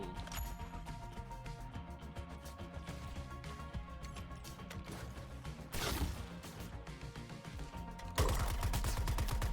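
Rapid bursts of gunfire and blasts from the Suicide Squad: Kill the Justice League video game, layered over a dense action soundtrack with a couple of loud impacts toward the end.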